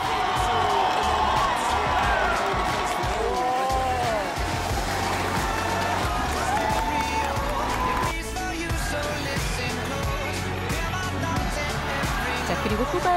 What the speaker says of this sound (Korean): 함성이 쏟아집니다